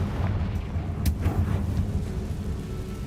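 A Confringo fire spell blasts in the Hogwarts Legacy video game, one sharp bright burst followed by a rumbling boom and a few crackling echoes, all over a low steady game background with no talk.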